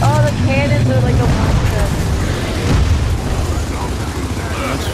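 Heavy cannon booms in Gears of War 4 co-op combat, loud rumbling blasts that run almost without a break, with other game sounds and chatter from players.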